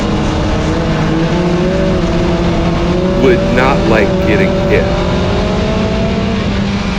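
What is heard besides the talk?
dirt track race car engine revving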